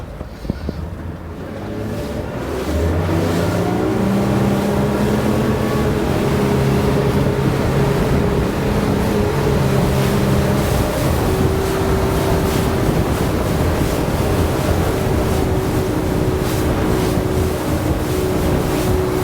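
A 2024 Sea Hunt Gamefish 28 motorboat engine revs up and then holds a steady, loud drone at about 35 to 40 mph cruise speed, with rushing water and wind noise throughout.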